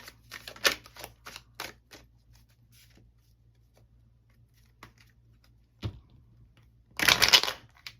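Tarot cards are pulled from a deck and shuffled by hand, with a burst of quick riffling flicks at the start. A few sparse taps follow in quiet, and a second dense riffle comes near the end.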